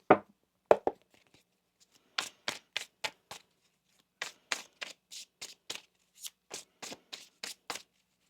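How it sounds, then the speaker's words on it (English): Crisp riffling bursts of tarot cards being shuffled close up, a few quick flicks then repeated rapid shuffles in an uneven rhythm. "One more shuffle."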